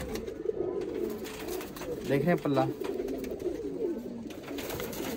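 Soft cooing of Rojy pigeons close by, low throaty calls rising briefly in the middle, with someone speaking over it.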